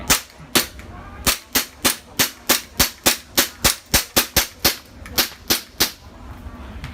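Rapid sharp shots from WE BB guns ring out alone, about twenty cracks in quick uneven bursts, fairly close and loud with a snappy report each time.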